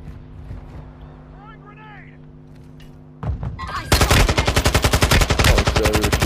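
Automatic rifle fire in a Call of Duty match on Ashika Island bursts in after a few seconds of quieter game ambience, then continues as loud, rapid, close shots.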